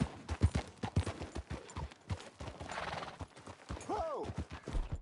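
Horse in Red Dead Redemption 2 galloping with steady clip-clop hoofbeats, then letting out a clear neigh near the end, with a rider's voice heard briefly.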